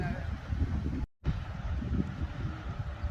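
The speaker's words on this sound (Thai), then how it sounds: "ลมแรง นะคะ" Strong sea wind buffets the microphone on a beach in Songkhla while a buffalo kite is flown, a steady low roaring rush with one brief dropout, and someone talks over it.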